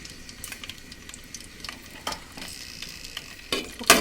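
Green chillies fry in hot oil in a pan for a Godavari-style tamarind fish curry, a faint steady sizzle with light crackles and a few sharper pops near the end.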